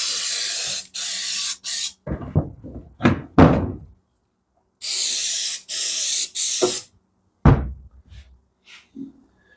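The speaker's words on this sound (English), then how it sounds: "Shake this up. Spray it on there." Two long, loud hissing bursts of aerosol spray onto a Nissan Hardbody console, each a few seconds, separated by clattering knocks and a can being handled.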